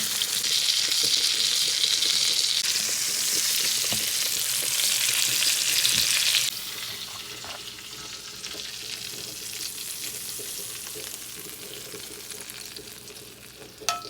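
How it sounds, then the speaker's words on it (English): A thick ribeye steak sizzles and spatters in a pan as melted butter and fresh herbs are spooned over it, loud and continuous at first, then settling to a softer fry. "we're gonna get all the good stuff on top of the steak and start basting it"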